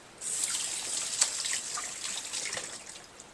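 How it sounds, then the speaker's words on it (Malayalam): Ground masala paste is poured into a pan of roasted onions for a spicy garlic mushroom curry, making a quiet, close wet trickle with a few soft splatters. "ഇതിനകത്തേക്ക് നമ്മൾ അരച്ചെടുത്ത് മസാല ഒഴിക്കാം"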